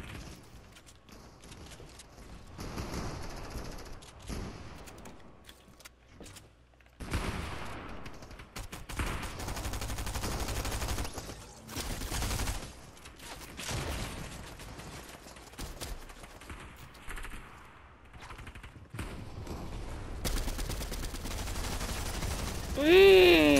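Submachine gun fire in a video game comes in repeated rapid bursts separated by quiet gaps, moderately loud, with mechanical clicks and other game sounds between volleys.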